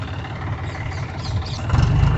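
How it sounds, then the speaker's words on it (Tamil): A John Deere tractor engine runs at a steady, close idle with a low droning rumble, growing slightly louder and heavier near the end as it settles after starting. "வண்டி இப்போ ஸ்டார்ட் பண்ணியாச்சுங்க"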